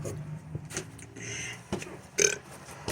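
A person lets out a single short burp near the middle of the clip. Faint background noise and a few soft thumps sit around it.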